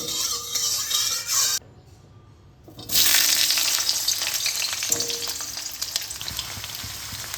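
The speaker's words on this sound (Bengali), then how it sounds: "2-3 চামচ সর্ষের তেলে আমি কুমড়ো আলুগুলোকে ভেজে নেব।" Pumpkin and potato pieces frying in two to three spoonfuls of mustard oil, a loud, steady close sizzle that drops away briefly for about a second, then returns stronger and continues with crackling.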